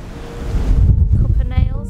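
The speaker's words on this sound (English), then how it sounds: "goodness, it's windy" Strong wind gusting across an open beach, a loud low rumbling buffet on the microphone that swells and falls over a couple of seconds.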